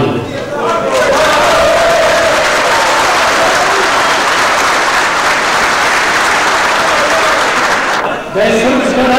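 Loud, sustained applause and cheering from a large crowd at a Serbian Radical Party political rally in Pljevlja in 1992, a dense roar of clapping that holds steady for several seconds before briefly dipping.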